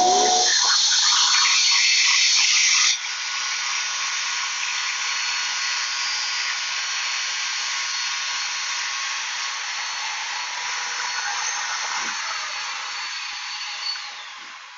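A Shopsmith jointer cuts a shallow rabbet in wood, its motor running as a continuous high whine with a harsher cutting roar at the start that settles into a steady spin.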